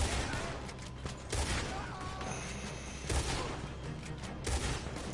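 Gunfire in Red Dead Redemption 2, repeated rifle and pistol shots in irregular bursts over a noisy battle background, with someone shouting in between.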